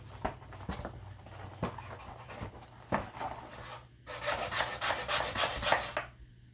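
A decorative blade saws back and forth against a cardboard box, giving steady scraping, rasping strokes that grow louder and denser near the end, close by, with no talking.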